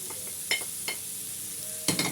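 Onions, two small and one large, stirred in a hot pan with garlic for chicken shawarma, giving a soft steady sizzle punctuated by a few sharp scrapes and clinks of the stirring utensil.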